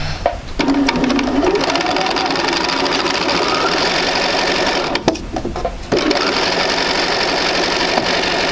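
A sewing machine stitches two fabric rectangles onto the sides of a quilt block, its rapid mechanical whir running close and steady with a short pause partway through.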